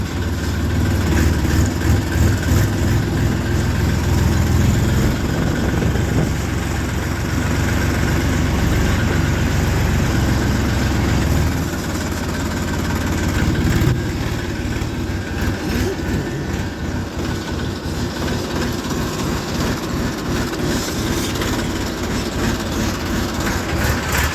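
Tractor hauling a load of sugarcane in first gear on a foggy morning, a loud, heavy low engine drone that runs continuously, with a rhythmic chugging pulse becoming clearer in the latter half.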